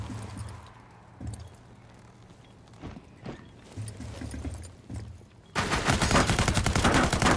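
Rapid gunfire from a Rainbow Six Siege ranked match, with scattered shots and bursts in the first half, then a loud, dense volley of shots from about 5.5 seconds to the end.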